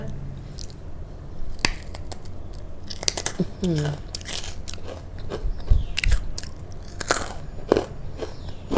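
Crispy baked dried fruit being bitten and chewed close to the mic: sharp, irregular crunches and crackles in bursts, with brief murmured talk between bites.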